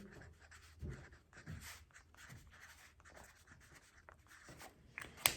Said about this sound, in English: I'm gonna write my name on it again so everybody knows that this is my Afikoman bag.